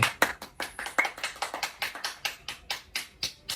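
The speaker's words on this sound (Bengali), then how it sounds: "শুভমান গিলের জন্য এইটাই হাততালি হবে" A single person claps at an awards presentation for cricketers, giving about fifteen sharp, evenly spaced claps that sound close and alone.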